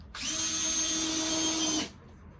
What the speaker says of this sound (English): Now, we'll come down this side first with screws.